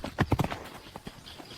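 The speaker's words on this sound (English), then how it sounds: "Something needed to be done about these unruly horses." Horses' hooves clop in a quick burst of several distinct strikes, then fainter scattered hoofbeats follow, short and fairly quiet.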